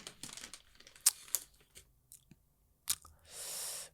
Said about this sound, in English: But I haven't taken a bite of these Doritos here.